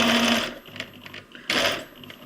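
A home sewing machine stitches a cloth pad, its motor whirring in two loud close bursts separated by a short quieter pause while the needle stays in the fabric, with no voices.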